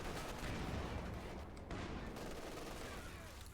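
In Company of Heroes 2, a Panzer IV tank fires on Soviet conscripts amid a dense, roaring barrage of gunfire and explosions, the battle noise loud and unbroken throughout.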